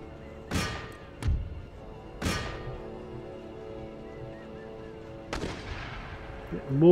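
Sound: mortar artillery fire in Empire: Total War video game

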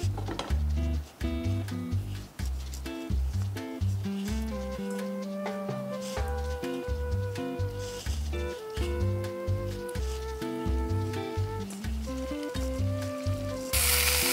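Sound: beef ribs searing in hot oil

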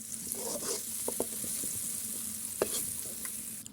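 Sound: green peas being stir-fried in a pan

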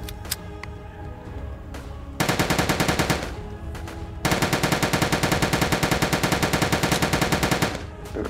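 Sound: gunfire in the video game Soviet Soldier

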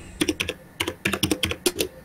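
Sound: computer keyboard typing

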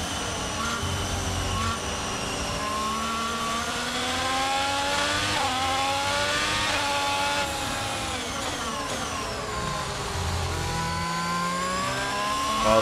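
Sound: Formula 1 race car engines in F1 2022 video game

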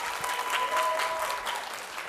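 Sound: audience applause

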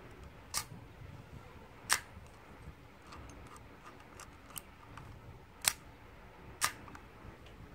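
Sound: Nikon film camera shutter firing on B setting

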